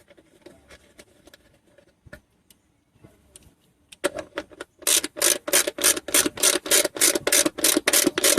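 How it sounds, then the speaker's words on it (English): A 10mm nut is fastened back on a Porsche Boxster 986 during a charcoal canister replacement: quiet scattered metallic taps and clicks, then a run of rapid, loud, regular ratchet clicks. "So now our 10mm nut goes back on."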